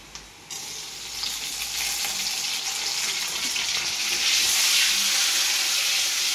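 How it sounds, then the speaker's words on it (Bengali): Onion and tomato fry in a pan with a bright, hissing sizzle that builds after a quiet start and stays loud and close throughout. "টমেটোটা কিছুক্ষণ ভাজবো,"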